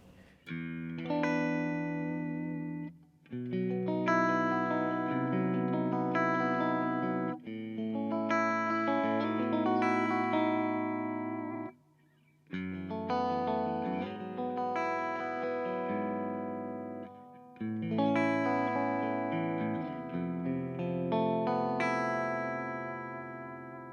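Distorted electric guitar chords through a Friedman JJ Junior high-gain amp with an Earthquaker Devices Dispatch Master reverb ring out in long sustained phrases, pausing briefly between passages, with no talking.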